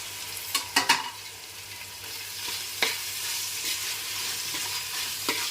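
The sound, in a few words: frying tomato with ginger garlic paste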